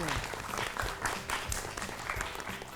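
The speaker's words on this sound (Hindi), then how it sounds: "तालियां!" A studio audience at a children's quiz show bursts into dense, steady clapping for a correct answer, loud and close throughout.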